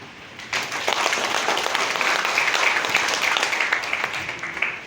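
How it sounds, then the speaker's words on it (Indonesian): A church audience applauds at the inauguration of a resort and its pastors, warm sustained clapping from a sizeable crowd starting abruptly after a quiet moment and holding steady. "Tepuk tangan"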